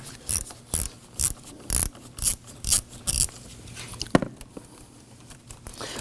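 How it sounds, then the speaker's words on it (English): A 1/4-inch ratchet with a 10mm socket loosening the ground terminal bolt on a 2018-2024 Toyota Camry battery, giving seven quick, evenly spaced clicking bursts up close, followed by a few fainter clicks and a light metallic tap. "Using a 10mm socket in your 1/4" ratchet, loosen the bolt on the ground terminal."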